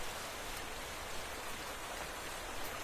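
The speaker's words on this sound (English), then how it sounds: "I wish it wasn't raining." Steady, even hiss of rain falling in the Minecraft video game, soft and continuous with no other sounds.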